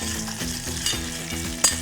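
Whole black peppercorns frying lightly in a pan for corn pakoras, a steady close sizzle with rhythmic stirring scrapes and a couple of brief clinks, no voices.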